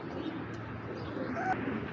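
An Indian Sharjanpuri pigeon coos softly over a low steady background, a short, fairly faint murmuring call with no talk.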